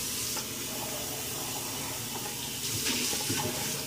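Hot water running from a tap into a sink, a steady broadband hiss and splash throughout, close and loud, swelling slightly near the end, with no voices.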